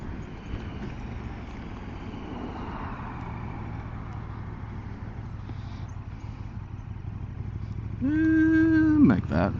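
Steady wind buffeting a microphone outdoors, a dense low rumble running continuously throughout, with a short tonal engine-like sweep rising near the end.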